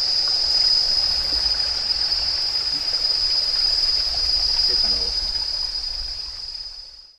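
The Largo river flows in a steady, even rush of water, outdoors and continuous, with a thin high insect-like whine running constantly above it before the sound fades out.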